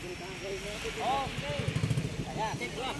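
A motorcycle fitted with two engines revs and accelerates close by, its sputtering rasp rising in short bursts while people talk over it.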